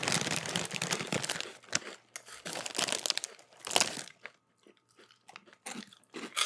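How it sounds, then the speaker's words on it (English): Crunchy pizza-flavored wheat snack cubes being chewed up close, loud dense crunching in bursts with brief pauses between bites, no talking. "These are very crunchy."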